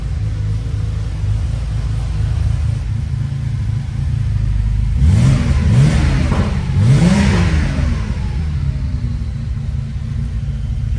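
A 1987 Porsche 911 Turbo (930) revs up loudly from a steady low rumbling idle, with about three rising throttle blips around the middle before the flat-six settles back to idle.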